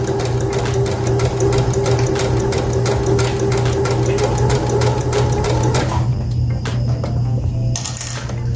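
A home sewing machine runs a straight back stitch on baby pants, a fast, steady mechanical whir with rapid needle clatter close up, easing into lighter clicks near the end.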